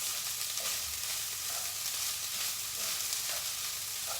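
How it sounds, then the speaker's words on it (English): Rice frying in a thin film of leftover oil in a worn pan gives a steady, even sizzle with faint stirring scrapes, close by and with no voices. "I'm just literally going to let the little bit of oil that was in the pan just coat the rice"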